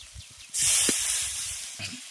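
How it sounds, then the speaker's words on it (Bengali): Water poured into hot oil-fried masala in a pan for a bottle gourd curry sets off a sudden loud, close hiss that tails off slowly over a couple of seconds. "এবার এর মধ্যে দিয়ে দেবো জল"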